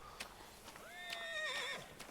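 A horse in the video game Rising World gives a faint whinny with a quavering pitch, set against soft, scattered hoof clip-clops at a distance.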